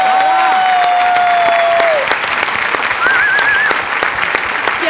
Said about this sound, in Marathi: ताईच्या बेरिंगसाठी जोरदार टाळ्या झाल्याच पाहिजेत